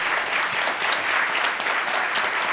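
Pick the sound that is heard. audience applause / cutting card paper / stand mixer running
audience applause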